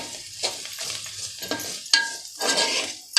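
Stirring fish curry after salt is added in a pan, a spoon scraping and sizzling in repeated strokes, close and fairly loud with short bursts of frying hiss.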